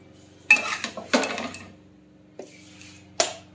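Warmed aloo matar is served onto a metal plate with a few clinks and scrapes of a utensil against steel, short and close, over a faint steady kitchen hum.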